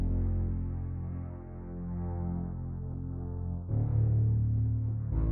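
Sick Tone bass preset from Arturia Augmented Strings: a deep, sustained, humming synth-string bass drone with a slow swell, then a brighter note change near the end, steady and alone.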